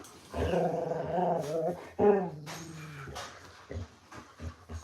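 A playful dog growls in long rumbling bursts close up, breaking into a brief whine and yip, then trailing off into short snorts and scuffling.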